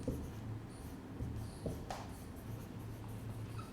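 Pen scratching across paper while writing out chemistry notes, a soft continuous scribble with small taps and strokes, close and quiet.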